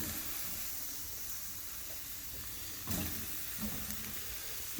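Steaks searing on a charcoal grill outdoors on a deck, a steady broad hiss and sizzle running throughout with a few faint knocks.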